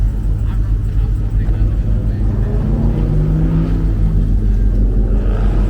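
A Dodge Durango at an outdoor Southern California car meet gives off a loud, steady, deep engine rumble that holds for the whole stretch with little change.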